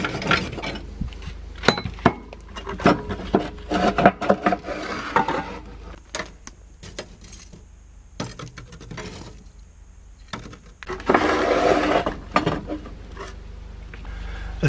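Ash being raked out of a narrowboat's solid-fuel stove, irregular metallic scrapes and clinks close by, with a quieter pause midway before a louder burst of raking.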